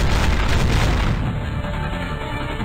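Gunfire in the Strike Force Heroes video game: a loud, continuous wall of booming shots and blasts with no pauses.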